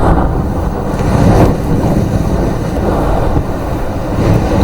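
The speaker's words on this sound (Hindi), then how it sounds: "तेज हवाएं 130 से 140 किलोमीटर प्रति घंटे की रफ्तार से टकराई हैं तट से" Cyclone Yaas winds of 130 to 140 km/h batter the Odisha coast, a loud, steady, rumbling roar of gusts buffeting the microphone without letup and with no voices.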